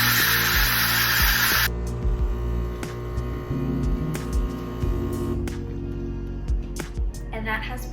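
A Philips 3200 LatteGo espresso machine whirs and hums while brewing a latte macchiato, with a loud burst of hiss at the start, then a low pump drone and intermittent clicks and knocks close by.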